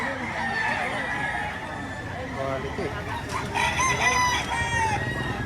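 Roosters crow and chickens cluck nearby at a gamecock market in Batangas, Philippines, mixed with people talking and haggling over prices above the birds.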